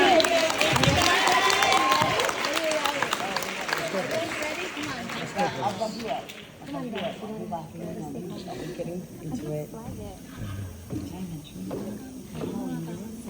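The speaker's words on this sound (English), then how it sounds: "One more round of applause, you guys." An audience at a seminar-style talk breaks into applause and cheering, loud at first and fading after several seconds as a voice takes over and keeps talking.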